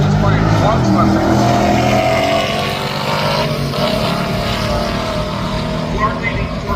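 A naturally aspirated Ford Mustang stick-shift drag car racing down the strip at a drag racing event, a loud, sustained engine roar that dominates, with an announcer talking over it.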